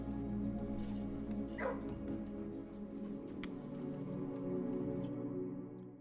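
Puppies in the video game Blue Prince yip and whimper faintly through a steady low ambient drone, a few short sharp barks standing out briefly amid the background.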